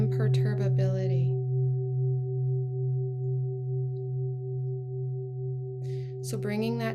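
Singing bowls ring with a steady, sustained hum of layered pure tones and a gentle slow wobble, with a soft voice speaking briefly at the start and end.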